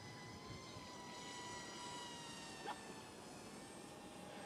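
Small drone flying nearby outdoors, a steady whining hum with stacked tonal harmonics running the whole time at moderate level, slightly wavering in pitch, no one talking.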